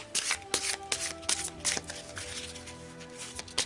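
A deck of tarot cards is shuffled and cut by hand up close, with rapid papery riffling bursts and flicking slaps in an uneven rhythm over a faint hum.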